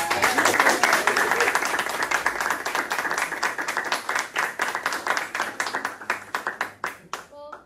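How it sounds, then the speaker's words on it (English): Hands clap steadily from a small group of podcast guests and hosts, loud and close at first, then thinning into a few separate claps that die away at the end. "Another round of applause for Karla"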